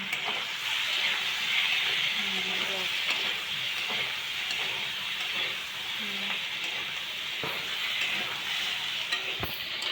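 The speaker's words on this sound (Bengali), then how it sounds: "আলুটা একটু নাড়াচাড়া দাও।" Potato curry is stirred in a pan over a steady hiss of simmering and sizzling, with faint scraping throughout and a voice talking briefly in the background.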